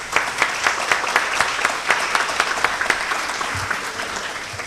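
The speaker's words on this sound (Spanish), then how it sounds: "un aplauso cariñoso" Warm, sustained applause fills a tribute ceremony for a doctor, a dense, even clapping from a seated audience with no voices over it.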